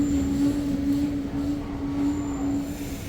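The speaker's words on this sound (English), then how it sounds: "The train kind of just passed us." A short train rumbles past nearby in New York City with a steady low roar and a high, sustained metallic squeal from the wheels throughout.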